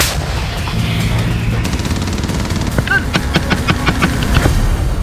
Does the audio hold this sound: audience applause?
no